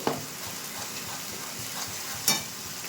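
Spice paste sautéing in a pan for a cauliflower and potato dum, a steady low sizzle with soft stirring scrapes and a couple of sharper utensil knocks near the start and end; no voices.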